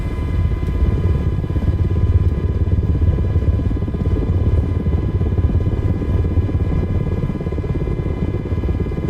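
An MH60 helicopter in a flight simulator gives a steady, loud, close turbine and rotor drone with a constant high whine and no break or change throughout.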